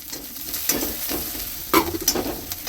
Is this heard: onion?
yes